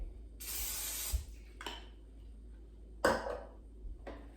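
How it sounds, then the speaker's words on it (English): Short hissing blasts of an aerosol non-stick cooking spray onto an air fryer basket, one long spray followed by a few quicker bursts, close by with quiet gaps between. "spray it with a non-stick cooking spray"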